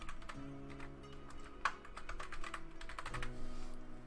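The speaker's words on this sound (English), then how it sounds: "I love typing." Typing on a computer keyboard, a close, steady patter of quick key clicks with one sharper tap partway through, heard over a low hum with no talk.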